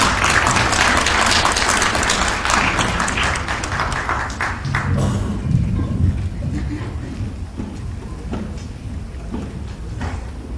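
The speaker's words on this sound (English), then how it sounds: "please give her a round of applause as she comes to speak to us" An audience claps warmly as a woman comes up to speak, dense applause that gradually thins and fades while a few scattered claps and murmurs linger.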